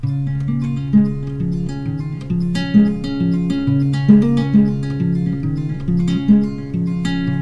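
Guitar strumming the verse of a song, moving through chord shapes and settling back on G with a hammer-on, in steady rhythmic strums with ringing sustained notes, played alone up close.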